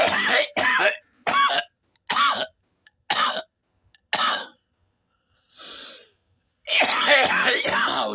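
A person coughs repeatedly in short harsh bursts with brief pauses, close to the microphone, ending in a longer fit of coughing.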